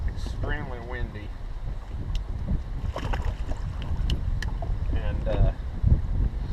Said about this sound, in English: It's just extremely windy.